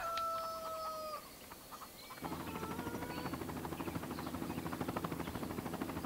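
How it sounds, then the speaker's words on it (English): Chickens clucking in Farming Simulator 2013, several birds heard up close, first over quieter ambience, then joined by a steady droning engine-like hum with rhythmic pulsing. "there's a chicken"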